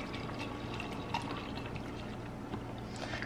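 About eight ounces of water pours steadily into a shaker cup for a drink mix, a continuous close splashing trickle with no talk.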